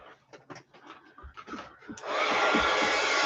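A hair dryer blasts steadily after a couple of seconds of quiet handling and rustling, drying wet stamped tissue paper in a craft setting, with a loud constant airy roar to the end.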